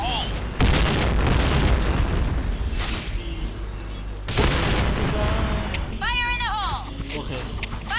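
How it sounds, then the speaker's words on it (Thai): Grenade blast in the shooter game Point Blank, a loud booming burst that hits twice in quick succession with dense noisy texture, mixed with game effects and a player talking over it. "โอ้โหระเบิดแม่งต่อหน้ากูเลย"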